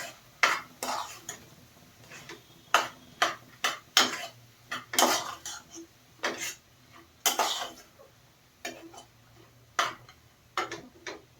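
A spoon scrapes and knocks against a pan while stirring a mashed potato mixture for sweet potato halwa, giving irregular clicks and taps in bursts, fairly close and fairly quiet.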